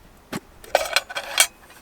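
A Trangia Mini spirit burner cook set is opened, giving a few separate light metallic clinks and rattles of pot and lid parts over under two seconds, close and fairly quiet, with no talking.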